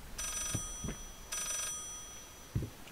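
An old telephone bell ringing in the video game Layers of Fear, two metallic rings, each lasting about half a second, with faint footsteps or thuds between them, fairly quiet.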